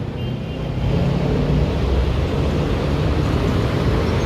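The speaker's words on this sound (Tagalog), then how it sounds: "Mga sasakyan galing EDSA papuntang San Juan" Steady dense road traffic rolls across the EDSA flyover at Ortigas, a continuous loud wash of engines and tyres with no voices.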